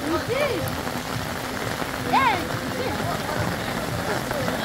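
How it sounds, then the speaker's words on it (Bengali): Steady heavy rain patters on a surface throughout, on flooded streets in Bongaon, with a few faint bird-like chirps rising briefly over the constant wash. "আর বৃষ্টি মোটে কমছে না, বিরাট বৃষ্টি হচ্ছে।"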